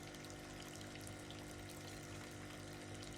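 Churning, agitated water sloshing in a row of tanks in the video game Kentucky Route Zero, a steady dense wash that runs without break and stays low and even throughout.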